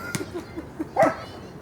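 A dog barks outdoors by a playground basketball court, giving two short, sharp barks spaced about a second apart over faint background noise.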